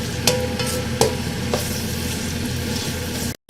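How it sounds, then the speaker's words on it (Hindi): Onions frying in a pan for baingan bharta, a close, even sizzle with a few sharp spoon or pan clinks near the start, cutting off briefly at the very end. "प्याज को हमें यहाँ बिल्कुल क्रिस्पी नहीं करना है, लेकिन इसका कलर चेंज हो जाए हमें इसको इतना ही फ्राई करना है।"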